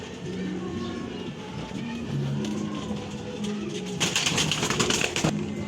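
Racing pigeons arrive at a loft after a race from Samar, with soft cooing and wing activity close by under ambient noise and a burst of hissing near the end, while people talk in Filipino throughout.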